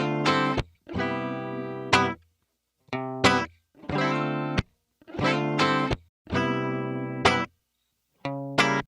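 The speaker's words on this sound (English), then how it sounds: "So in front of us, I've just got a basic guitar loop and it sounds like this." A basic dry mono guitar loop: repeated sustained strummed chords in short phrases with brief gaps of silence between them, clean and close, with no talking.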